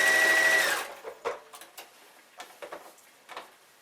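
A sewing machine runs a zigzag stitch with a multi-purpose foot, giving a short, steady mechanical whir that stops after under a second, followed by a few faint, scattered clicks and ticks.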